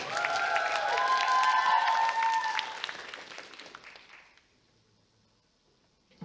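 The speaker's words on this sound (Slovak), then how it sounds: "Takže teraz veľký potlesk pre Kasame Katiak a slečnú Snežienku." Loud audience applause with scattered cheers at a cosplay and original costume competition, sustained for about four seconds, then fading quickly to near silence.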